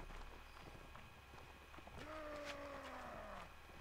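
Horse hooves clip-clop in the medieval combat game Mount & Blade: Warband, quick faint hoofbeats mixed with game ambience and a rising tone, heard at low level.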